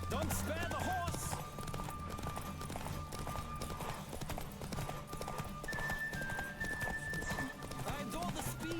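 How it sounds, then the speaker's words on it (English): A horse gallops in The Witcher 3, its hooves clip-clopping in a rapid, steady rhythm under game music and a voice talking, with an occasional whinny. "Don't spare the horse."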